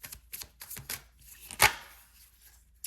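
Tarot cards are shuffled by hand in a series of quick, crisp riffles and slaps, with one sharper snap near the middle. They sound close and fairly loud, and nobody speaks.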